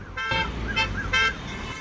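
Road traffic with a car horn honking in repeated short toots, loud and close against a dense engine rumble, with no voices.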